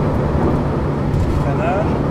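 Mini Nowack N260S sports car accelerating hard at high speed, a steady loud engine and road roar filling the whole stretch with a faint rising whine near the end.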